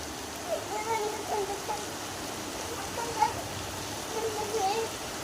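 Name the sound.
rain falling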